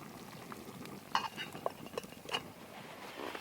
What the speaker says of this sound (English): Let's check this soup. Oh yeah, that's boiling nicely.